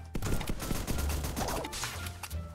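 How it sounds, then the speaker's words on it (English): Rapid gunfire from a shooter video game rattles off in a quick burst of sharp shots and impacts, loud and close, with little pause between them. "I missed all the shots."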